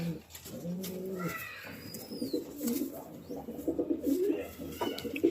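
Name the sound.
pigeon cooing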